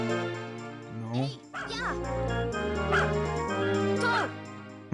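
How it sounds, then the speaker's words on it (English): A brown dog in Harvest Moon: Grand Bazaar gives several short, yippy game barks over a steady tonal music bed, each bark clear and close, with a person speaking along the way. "Seriously, where is our other brown dog?"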